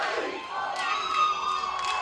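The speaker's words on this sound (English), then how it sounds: "Listen to that crowd." Large esports arena crowd cheering at the VCT Americas Valorant finals, a loud, sustained roar of shouts and whoops that swells throughout, heard without commentary.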